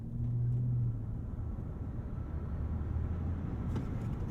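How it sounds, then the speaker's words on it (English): A Ford F-150 Lightning extended-range electric pickup in sport mode with its artificial propulsion sound on, giving a steady low hum and rumble as it launches hard from a standstill, with no talking. "We're gonna go into sport and turn on the propulsion sound."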